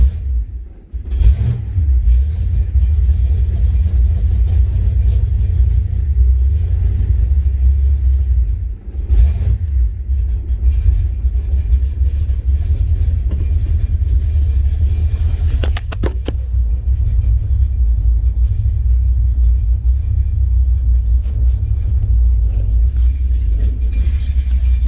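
Engine of a $500 car idling and pulling out of a garage, a steady loud low rumble that stays constant for about twenty-five seconds with slight dips, close to the microphone and without talk.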